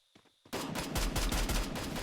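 Automatic gunfire in the battle royale game Free Fire: after a faint quiet start, a loud close burst of rapid, evenly spaced shots continues to the end.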